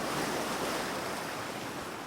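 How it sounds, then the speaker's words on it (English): Heavy waves crashing against rocky shores in The Drowned Island horror game, a dense, steady roar of surf and wind-blown noise that holds loud and unbroken. "Heavy waves crashed against the rocky shores"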